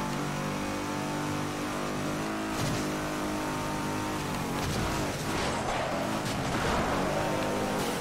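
A tuned Lexus race car engine revs and accelerates in the Midnight Club 3 street racing video game, a continuous mid-level engine drone with rising pitch sweeps and gear shifts, backed by game sounds.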